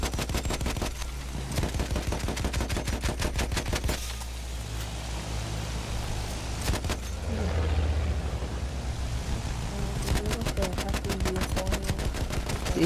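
Rapid, sustained machine-gun fire from an aircraft strafing a bomber in a video game crackles in dense bursts throughout, with brief gaps between volleys.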